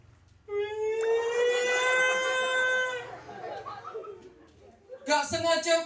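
A storyteller's voice imitates a child wailing like an ambulance siren, a long rising and sustained tonal cry held for a few seconds, followed by a short laugh.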